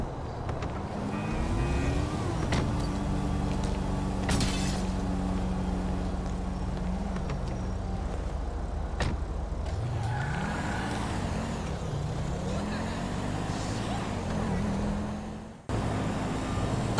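A car drives in the GTA 5 video game, its engine running steadily with a low hum that rises and falls through shifting revs for most of the clip before cutting off near the end.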